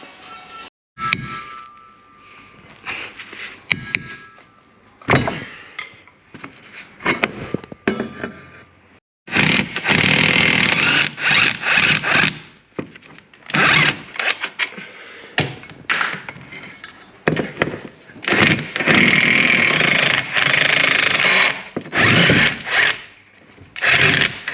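Tools work on a budget drift car while the front differential is removed, giving irregular metallic clanks, thunks and scraping, with a denser, louder stretch of rubbing and knocking in the second half.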